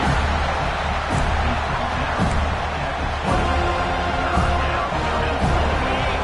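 A college football stadium crowd roars steadily during an FSU game against Kentucky in a video game, a dense wash of noise with a commentator speaking over it.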